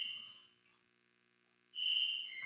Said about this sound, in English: Some haunting crickets